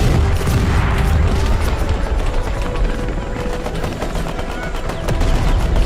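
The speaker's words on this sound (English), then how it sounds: "The machine guns are doing a good job though." Machine guns fire continuously during a Battle of Ia Drang Valley scenario in the game Call to Arms Vietnam. The rattle is loud and dense, mixed with booms and battle noise throughout.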